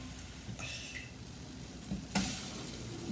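Two-ingredient pancakes sizzling steadily in a frying pan, with a couple of brief scraping and clattering touches as a spatula flips them, close by and without talk.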